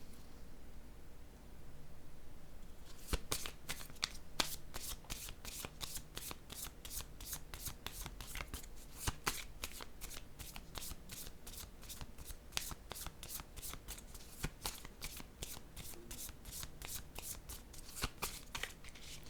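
Playing cards handled and laid down one after another, making a rapid run of crisp snaps and flicks over faint background hiss after a quiet start.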